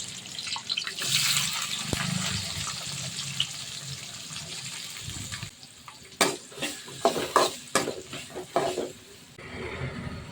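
Garlic and onion drop into hot oil with fried fenugreek seeds, giving a soft sizzle and then a series of sharp stirring scrapes and clatters in the pan, close by.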